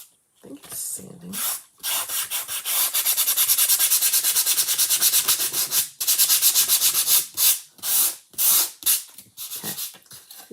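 Close sandpaper rubbing in quick back-and-forth strokes, a long steady stretch framed by shorter bursts with brief gaps.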